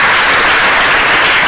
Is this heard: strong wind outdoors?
no